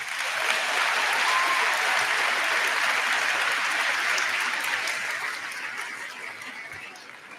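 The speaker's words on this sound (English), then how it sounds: "please give our parents a round of applause." A high school graduation crowd applauds the parents, dense sustained clapping filling the hall at full strength before gradually thinning toward the end.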